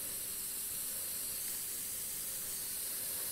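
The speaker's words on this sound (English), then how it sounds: "So I'm going to hold that into place using my airbrush from a distance again." An airbrush dusts a very light coat of paint through a template onto a prepped plate, giving a steady, soft, even hiss that runs unbroken throughout with no talking.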